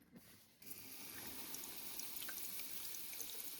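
A DIY whole-house humidifier with fountain misters in a water bucket is switched on. After a brief quiet moment it starts abruptly and settles into a steady, hissing rush of water and mist that continues on its own.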